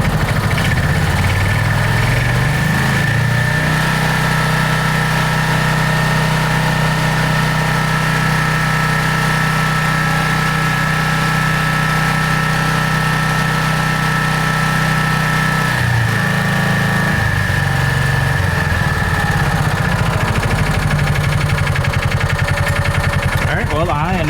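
A John Deere Gator 4x2 utility vehicle engine runs with its throttle pedal held down, giving a loud, steady mechanical drone with a brief dip in pitch partway through before settling back.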